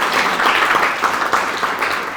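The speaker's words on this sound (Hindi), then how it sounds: "ताली बजाइए।" Audience at an interview with an IPS officer in Chhattisgarh breaks into applause, a brisk, steady patter of many hands clapping that sounds fairly close and holds throughout.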